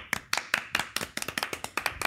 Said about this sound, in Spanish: Un aplauso para estos técnicos, por favor